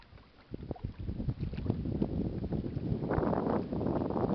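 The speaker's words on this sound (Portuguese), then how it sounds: "Nossa lancha aqui é mais emocionante" A motorboat's motor rumbles steadily on a reservoir (Açude do Umari, Crato, Ceará) amid water splashing and wind noise on the microphone, growing slightly louder toward the end.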